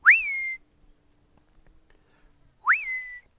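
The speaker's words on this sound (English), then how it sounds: "or I whistle. I go," Two clear rising-then-level whistles from a person calling black leopards, each about half a second long and separated by a pause of about two seconds, loud and close with no talk.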